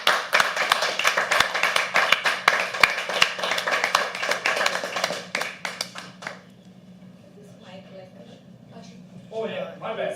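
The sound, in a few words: audience applause welcoming a poet at an open mic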